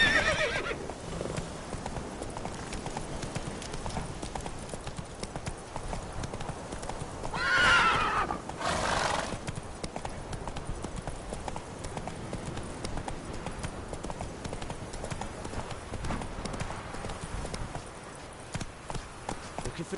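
Horse hooves clip-clop steadily throughout at a walking pace, close and moderately loud, with a brief whinny partway through and faint voices in the background.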